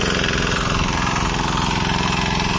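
Power weeder engine running in second gear at slow speed, a loud, close, steady chugging drone with a rapid regular pulse throughout.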